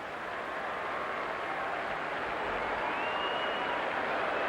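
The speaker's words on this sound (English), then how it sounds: "Big round of applause. Somebody's getting a standing ovation." Stadium crowd at a 1999 Rangers at Red Sox game in Fenway applauding in a standing ovation, a steady dense wash of clapping and cheering from the stands that swells slightly toward the end.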